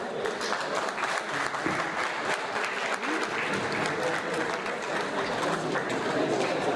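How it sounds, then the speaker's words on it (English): An audience at an awards ceremony claps for the backstage team, a steady wash of many hands, fairly quiet and distant, sustained without pause. "Let's give a big round of applause to everyone who worked tirelessly backstage and made this event possible"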